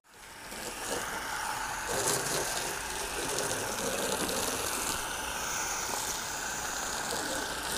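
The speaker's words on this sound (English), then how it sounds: "You just use a hose pipe, connect it to the bottle that comes with this nozzle, and that's your snow foam." Snow foam sprays from a nozzle bottle attached to a hose pipe onto a car, a continuous close hissing gush with faint mechanical rattling that holds steady throughout.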